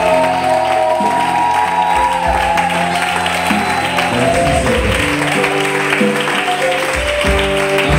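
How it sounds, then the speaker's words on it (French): Church congregation applauding and cheering loudly for the king, a dense, steady wash of clapping and shouts with sustained music tones underneath, continuous and close throughout. "Est-ce que tu peux acclamer très fort le roi?"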